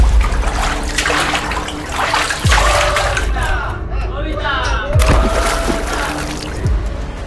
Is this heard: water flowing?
yes